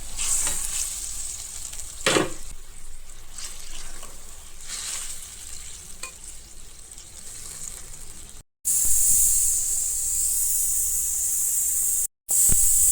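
Pointed gourds (potol) fry and get stirred in a pan of spiced stock, a steady close sizzle and hiss broken by scraping stirs, then a louder, brighter sizzle after a brief gap.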